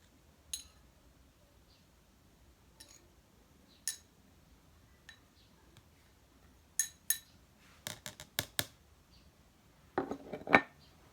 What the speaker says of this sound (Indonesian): Setelah itu kita tambahkan kopi ke dalam gelas kedua.